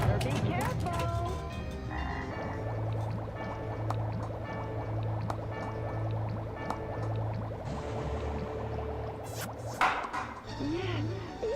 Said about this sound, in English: Frogs everywhere!